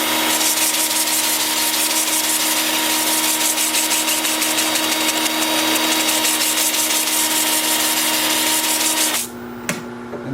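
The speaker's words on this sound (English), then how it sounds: "with the lathe spinning in reverse at about 350 RPM" A wood lathe running in reverse at about 350 RPM while turning spalted sycamore, giving a loud, continuous motor whine with a steady hum that holds throughout, then dips briefly near the end.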